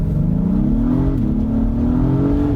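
A 2022 Acura MDX Type-S with 355 horsepower launches hard off a brake-boosted start, its engine note climbing steadily in pitch, loud and close, with one brief dip around a gear change and no voices.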